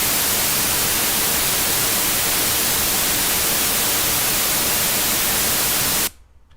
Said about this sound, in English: Let's go ahead and do our white noise on that channel alone.